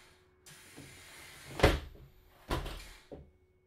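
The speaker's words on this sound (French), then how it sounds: "Nous avons des portes louvoyantes intérieures typiques de nos C2." Interior plug doors on a Mercedes-Benz Citaro C2 city bus in a driving simulator open with a pneumatic hiss and close with two solid thumps and a final softer knock, near and clear with no talk.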